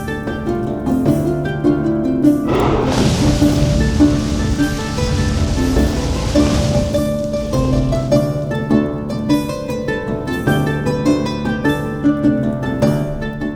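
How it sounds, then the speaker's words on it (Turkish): Ocean waves surge and crash around a freezing rocky islet in the North Sea. A broad wash of surf swells in the middle stretch and sits under steady, sustained music throughout. "Dalgalar kayanın etrafında kırılır."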